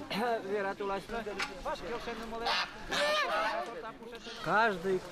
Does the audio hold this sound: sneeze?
no